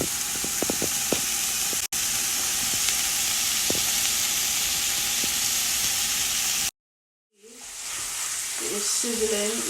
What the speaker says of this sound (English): It is sizzling even more.